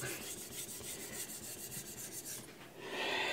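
A carbon steel knife is sharpened on a whetstone, either a Kramer by Zwilling glass stone or a Naniwa Pro around 1000 grit, making a run of quick, even rasping strokes close to the microphone with no talking.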